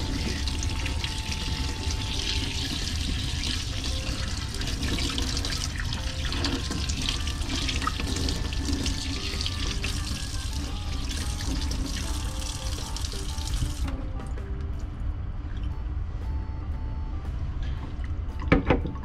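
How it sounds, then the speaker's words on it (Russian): Parts of a Dr Coffee F2 coffee machine being rinsed under a running tap, a steady close wash of water splashing into a sink that continues throughout and thins toward the end. "Все части мы промываем тщательно под водой."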